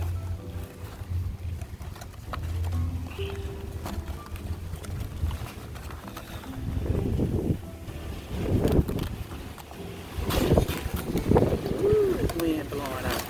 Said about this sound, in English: Wind blowing out here on me.